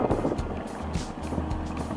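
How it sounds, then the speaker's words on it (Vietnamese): A fleet of motorized basket boats runs past at sea off Mỹ Tân, Ninh Thuận, giving a steady rumbling engine drone mixed with wind buffeting the microphone and nearby water wash. "Đây, tập đoàn thuyền thúng vừa mới chạy qua."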